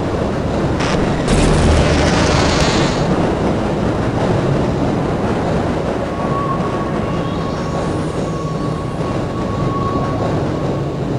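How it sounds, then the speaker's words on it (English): Train rumble in the Half-Life: Opposing Force video game, a loud continuous low roar with hiss and a short boom early on, settling into steady droning noise with a faint rising whine as the train comes to a halt at a station platform. "The train has come to a complete halt"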